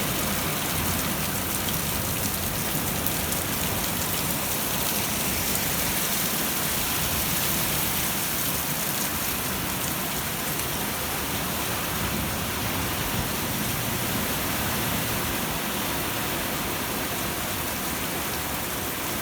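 Moderate rain falling steadily outdoors near birdhouses, a dense continuous hiss of drops on surfaces that stays even and close throughout with no voices.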